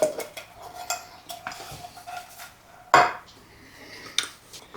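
Beef tips with cream of mushroom soup stirred in a bowl, a few scattered clinks and scrapes of a spoon against the dish, close but fairly quiet, with one louder knock near the middle.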